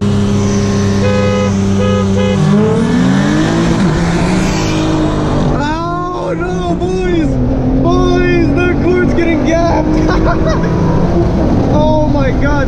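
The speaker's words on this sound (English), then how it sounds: "I can hear his turbo already." Turbocharged 2017 Audi A3 Quattro making about 430 wheel horsepower, its engine roaring loud and close with rising and falling revs and turbo whine throughout, while people talk over it.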